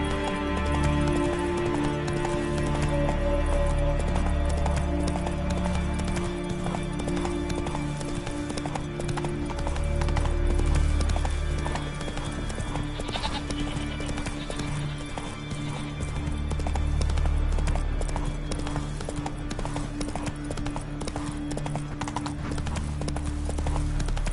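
Horse hooves gallop steadily in a video game, a continuous fast clip-clop rhythm with loud low rumbling, close-up, and occasional game sound effects over it.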